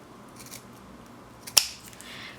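Scissors make a single sharp snip through washi tape, a crisp click close by against a quiet room.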